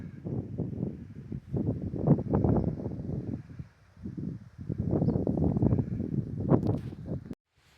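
Breezy wind blows outdoors in the misty early morning, a steady low rumble against the microphone that swells and dips before cutting off near the end.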